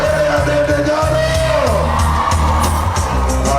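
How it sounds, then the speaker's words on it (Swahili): A large crowd at a political rally yells and whoops, with loud continuous shouting, overlapping voices and a sustained high-pitched cry, close and dense from start to end. "Wapi kelele ya mheshimiwa Dede Nyoro?"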